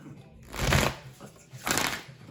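A Thoth tarot deck is riffled in two quick shuffles, each a close, crisp papery flutter lasting under half a second, separated by a short pause.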